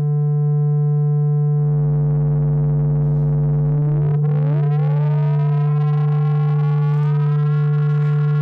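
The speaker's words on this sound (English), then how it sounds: "The distortion on this machine just sounds so amazing." A loud Vermona Perfourmer Mk2 synthesizer drone joined by a buzzing distorted tone that sweeps upward in pitch, then holds, gritty and harmonically rich.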